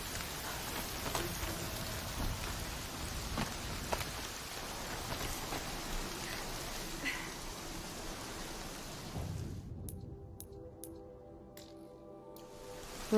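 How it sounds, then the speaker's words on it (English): Steady heavy rain in the video game Horizon Zero Dawn hisses throughout, dense and close, with a few louder drops; near the end the downpour thins, leaving scattered sharp clicks and a low hum. "Rain's too loud to hear much."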